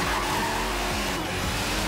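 An Audi Quattro with four-wheel drive skids out of control toward a building in Forza Horizon 3: a steady engine roar with tire scrubbing and squeal runs throughout, loud and unbroken.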